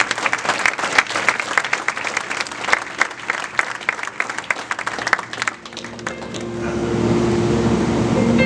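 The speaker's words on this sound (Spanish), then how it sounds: "Denle otro aplauso al Señor." A church congregation claps hard and fast in dense, continuous applause for several seconds, then it fades into a roomy background with a steady hum and faint murmur.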